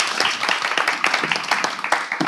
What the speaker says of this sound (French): Onalpha, on va vous raccompagner avec des tonnes d'applaudissements